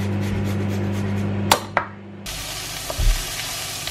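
Minced garlic and onion sauté in a pan with a steady sizzle under a low electrical hum, broken by a couple of sharp utensil knocks and a scrape, no talking.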